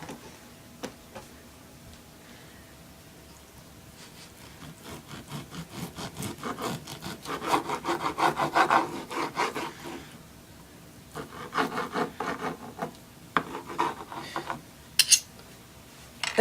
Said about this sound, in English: cut your London broil into very thin slices